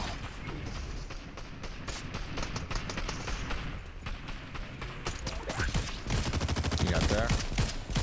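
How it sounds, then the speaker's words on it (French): Rapid gunfire rattles through a Fortnite match, dense repeated shots stacking up and swelling louder toward the end, with game sounds and a player's voice underneath; a sniper rifle crack is not clearly distinguishable. "Je lui mets une balle de snipe dans la tête."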